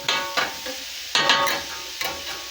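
Food sizzles in a pan for a homemade freezer meal, cooked before the potatoes go in; three distinct bursts of stirring and frying crackle rise and fade in turn, close and fairly loud, with no talking.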